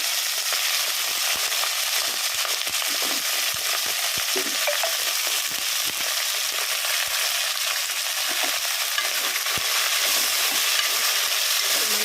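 Adamant creeper (nalleru) stems with chillies fry steadily in hot oil in a pan, a dense continuous sizzle with scattered crackles running throughout at an even, fairly loud level, no voices.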